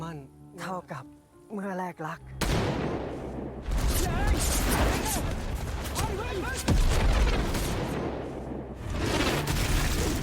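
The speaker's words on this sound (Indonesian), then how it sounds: "Tembakan pun tak bisa dihindari" Gunfire and heavy booms from a Thai horror film, a dense, loud barrage of shots and blasts with a narrating voice over the top and a brief music-like passage at the start.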